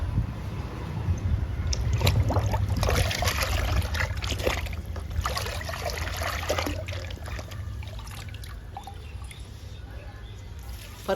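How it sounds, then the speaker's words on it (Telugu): Rice-washing water trickling from a container onto indoor potted plants, a steady close pour and dribble lasting several seconds with low background rumble, no talk over it. "ఇంక ఇచ్చేద్దామండి మొక్కలకి బియ్యం కడిగిన నీళ్ళని"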